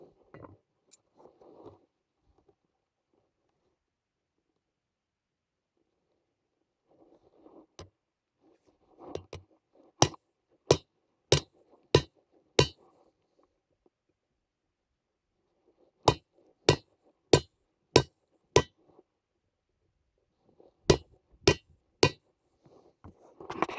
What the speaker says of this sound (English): now we take the ancestral hammer and cold chisel and we have a go at cutting along the dotted line